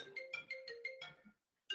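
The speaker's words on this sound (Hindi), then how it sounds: "आ गया फोन घर से।" A phone ringtone plays in a repeating melodic pattern of short tonal bursts, clear and close, pausing briefly before starting again, with no talk over it.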